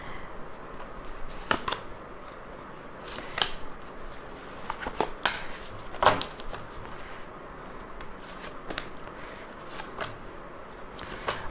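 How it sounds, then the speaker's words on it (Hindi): Tarot cards are shuffled and drawn by hand, soft papery riffles broken by a dozen or so sharp, close flicks and snaps spread unevenly across a quiet room. "कुछ कार्ड्स मैं भी निकालूंगी खुद अपने इंट्यूशन से।"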